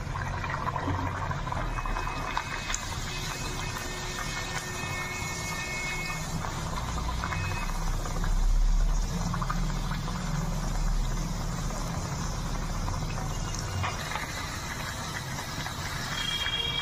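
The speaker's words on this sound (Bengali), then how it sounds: "লুচি আমি ভেজে নিচ্ছি, একটু লাল করেই ভাজবে।" Luchi (puri) frying in hot oil, a steady close sizzle and bubbling that runs without a break, with a faint low rumble underneath.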